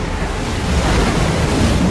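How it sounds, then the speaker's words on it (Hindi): Rushing flood waves of hot seawater as a sound effect, a dense, loud, continuous roar of surging water and wind-like noise that swells slightly over two seconds, with no voices. "जिससे गर्म पानी की भयानक बाढ़ आ रही थी।"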